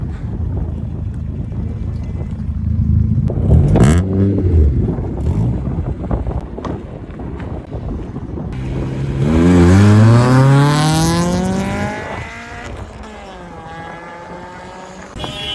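Rally cars arrive in the Moroccan Sahara with a rising and falling engine roar as they pass close by, a higher revving whine sweeping up midway, and wind buffeting the microphone.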